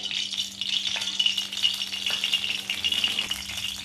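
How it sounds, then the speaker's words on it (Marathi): Rapid, dense crackling and popping of mustard seeds spattering in hot oil in a kadai, steady and close throughout with no voices. "मोहरी टाकायची आपल्या ह्याच्यामध्ये मोहरी छान तडतडू द्यायची आहे"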